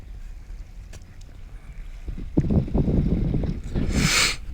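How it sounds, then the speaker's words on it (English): Wind buffeting an outdoor microphone while a DJI Mavic Mini drone flies: low rumbling gusts that swell midway and stay loud, with a brief hiss near the end. "Do apologise if it's a little bit windy,"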